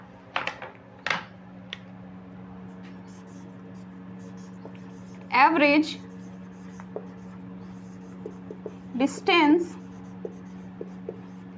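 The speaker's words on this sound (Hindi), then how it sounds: "तो चलिए, इसे हम पहले लिख लेते हैं" Notes are written by hand during a lesson, with short scratchy strokes close by and quiet gaps between them. Two brief bursts of a speaking voice come in partway through.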